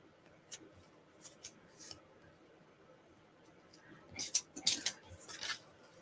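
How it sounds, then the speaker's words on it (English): Pointy scissors snipping through paper during card crafting, a handful of faint snips early on, then a louder cluster of crisp cuts close by near the end, with no talking. "And then I come in with my pointy scissors."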